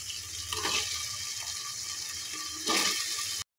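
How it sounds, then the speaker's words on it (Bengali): Bottle gourd pieces drop into hot spiced oil with ginger paste, setting off a steady frying sizzle with stirring, and a louder burst of hissing near the end. "এখন আমি লাউগুলো দিয়ে দেব।"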